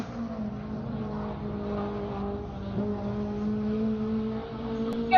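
A race car pushes hard on a flying lap at Buttonwillow during a GTA season finals time attack, its engine a steady, sustained tonal drone heard from onboard or nearby, with a brief shift in pitch midway.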